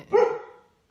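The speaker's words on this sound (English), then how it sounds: "We need to figure out how to stop the barking." A single sharp dog bark rings out close by, then fades quickly into silence.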